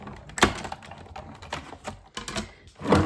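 Card pieces for card making being cut, a series of close, irregular sharp clicks and crunches in quick succession, fairly quiet and without talk.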